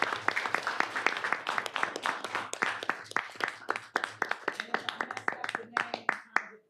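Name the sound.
applause for board members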